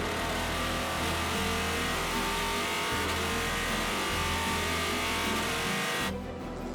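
LMP2 prototype race cars at the 2019 24 Hours of Le Mans, a loud sustained engine drone with shifting pitch as cars pass, steady throughout before dropping away abruptly near the end.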